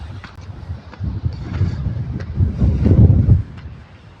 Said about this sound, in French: Un peu de vent.